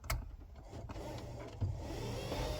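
A worn electric window motor in a Holden VL strains to move the glass, with a faint, labored whir and a few clunks near the door, heard without any talking.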